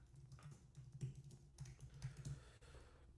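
Soft, quick keystrokes on a computer keyboard, an uneven run of light taps with a few brief pauses, close but quiet and heard alone with no voices.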